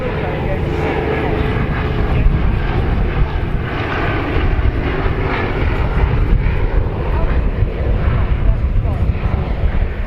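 An aircraft flies at the RAF Cosford airshow, giving a loud, steady engine roar that fills the air without letup, with a voice talking over it throughout.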